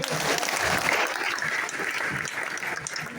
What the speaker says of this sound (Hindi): सर के लिए एक बार जोरदार ताली।